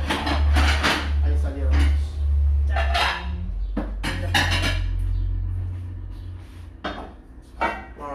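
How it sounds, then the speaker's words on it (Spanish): Plates and utensils clink and knock in a kitchen as chorizo cooked in white wine is served onto plates, a series of close clatters under people talking. "Vamos a poner un poco en un plato."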